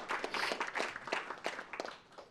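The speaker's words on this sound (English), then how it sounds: "Don't often get applauded for that in Pennsylvania" Audience applause at a labor political-organizing conference session: a short burst of scattered, crisp hand claps from a modest crowd, fading toward the end.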